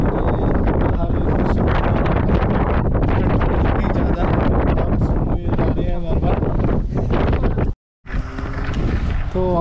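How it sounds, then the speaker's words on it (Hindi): Strong wind buffets a parked car at a snowy mountain resort, roaring loudly and continuously in heavy gusts with a brief drop-out near the end. "बाहर बहुत हवा चल रही है"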